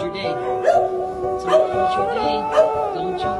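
Several dogs at a rescue intake yip, whimper and bark in short bursts roughly once a second, with a steady hum behind and people talking softly throughout.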